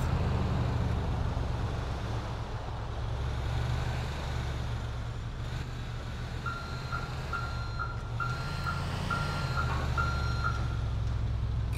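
Truck reversing in Grand Theft Auto IV, with a regular series of high beeps starting midway through and running over a low, steady engine rumble and city traffic.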